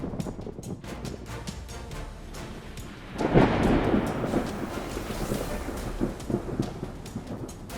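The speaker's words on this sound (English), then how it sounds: "Thunder roars across the land as the storm rages on" Thunder rolls through a storm, a loud crack-like burst swelling midway into a long deep rumble over steady background noise, with no voices.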